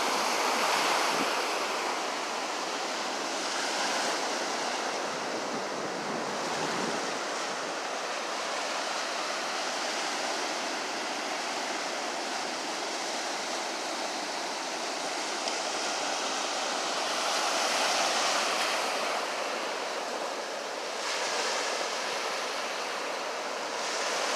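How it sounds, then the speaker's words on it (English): Steady roar of ocean surf with waves breaking and washing in continuously, broad and full, with some wind noise; no voices. "Relaxing, the sounds of the waves crashing down."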